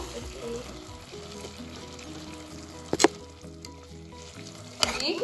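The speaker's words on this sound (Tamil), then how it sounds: "ஒரு அஞ்சு நிமிஷம் நல்லா குக் ஆகட்டு சிக்கன் நல்லா குக் ஆகுது" Chicken cooks in a pot with mint and coriander leaves for biryani, a steady close sizzle with a couple of brief clanks from stirring.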